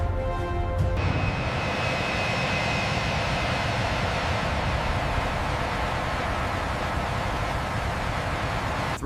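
Engines of a B-2 Spirit bomber in flight while banking, a loud, steady broadband roar that fills the whole clip after a brief higher-pitched onset.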